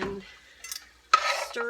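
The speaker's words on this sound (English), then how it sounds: "stir it around" Diced potatoes and onion stirred in a pan for a ground beef and potato casserole: a brief scrape, then a loud burst of close utensil scraping and sizzling that carries on to the end.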